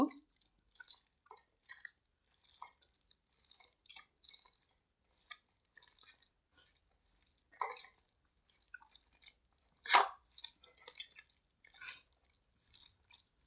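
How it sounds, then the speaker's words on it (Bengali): Mashed eggplant being mixed by hand with mustard oil, giving soft, wet squelching and dripping sounds in an irregular rhythm, faint and close, with no talking. "এখন আমি বেগুনগুলো সবগুলো একসাথে মিক্স করে নেব।"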